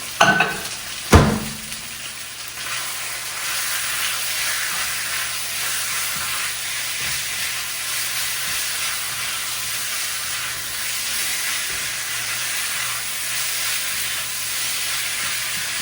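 A loud, continuous sizzle fills the air as a stir fry cooks in a very hot pan, opening with a couple of sharp clanks before settling into steady hissing.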